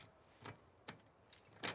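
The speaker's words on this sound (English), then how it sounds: "Did you steal my keys?" Keys jangle in The Last of Us Part 2, heard as a few quiet, brief metallic jingles spaced apart, with a short pause between some of them.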